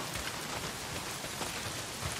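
Heavy rain pours down in the video game Days Gone, a dense, steady hiss of drops beating on surfaces with a low rumble underneath, constant and close, with no talking.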